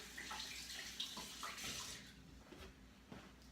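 Tap water runs steadily into a kitchen sink while a hand is rinsed beneath it, a close, continuous splashing hiss that thins out toward the end.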